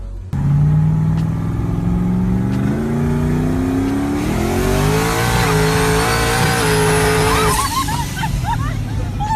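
Blown alcohol rat rod engine making over 1,200 horsepower: a loud, close, deep roar that climbs in pitch as it revs and accelerates, ending with a squeal and crowd-like noise.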